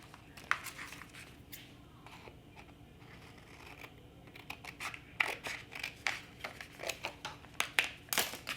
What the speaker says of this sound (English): Now I'm going to cut the second piece to go down here.